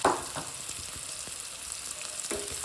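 Cloves, cardamom, turmeric, mustard seeds and coriander seeds sizzling in hot oil, a steady bright crackle with a few scraping stirs, close and continuous with no talking.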